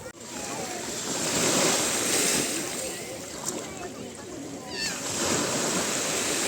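Sea waves washing onto a beach in Shëngjin, Albania, in the early evening, a steady broadband roar of surf and moving water that swells and ebbs, with occasional splashes and faint wind throughout.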